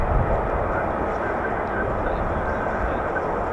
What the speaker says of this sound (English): F-35 just taxiing past there